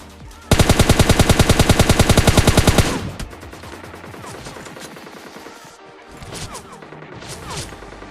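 A rapid automatic spray of gunfire in PUBG Mobile Lite, a loud, dense burst of evenly spaced shots that lasts a couple of seconds and then gives way to quieter game sounds and scattered impacts.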